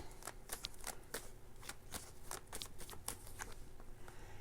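Tarot cards shuffled and drawn, a quiet, steady run of rapid crisp riffles and flicks repeating close by with no talk.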